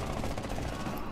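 Rapid automatic gunfire in the video game Rainbow Six Siege, a dense, loud burst of shots packed closely together for about a second.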